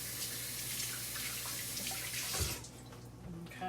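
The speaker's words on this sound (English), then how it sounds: "Wash my hands real quick because that's messy." Hands being washed under a running kitchen tap, a steady close hiss of water with splashing that cuts off near the end, leaving a quieter room with faint drips.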